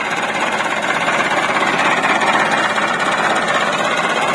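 A tractor engine runs steadily and loudly from start to finish, a dense continuous rattling drone with no pauses and no voices over it.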